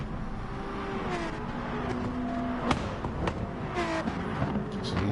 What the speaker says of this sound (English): Some lovely engine noises there coming into that.